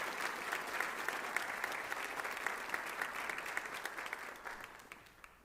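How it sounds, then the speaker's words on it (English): Audience applause at an MLK Jr. celebration evening honoring award recipients, steady dense clapping from a crowd that fades gradually toward the end. "Let's give them a round of applause."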